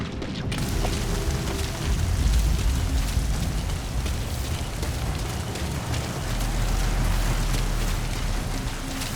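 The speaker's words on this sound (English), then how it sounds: "The sound of rainfall should help to mask your footsteps." Heavy rain pours in the Metal Gear Solid V video game, a dense, unbroken wash of falling water with a low rumbling undertone, steady and close throughout.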